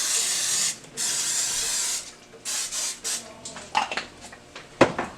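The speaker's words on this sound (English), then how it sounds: "Let's spray this down a little bit more." Several bursts of cooking spray hiss onto a pan cooking a turkey and Swiss melt, a long steady spray followed by shorter spurts and a few light clinks of cookware.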